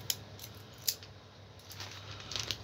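A few sharp scissor snips cutting open a packet, close and isolated, with quiet pauses between the cuts.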